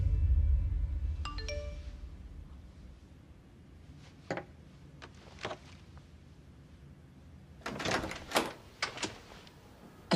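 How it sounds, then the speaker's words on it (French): A doorbell chime rings once near the start, a clear two-note ding-dong that fades quickly, followed by scattered door knocks and clatter in a quiet indoor scene from an action film. "Alors j'ai une sonnette."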